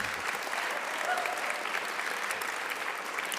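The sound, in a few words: audience applause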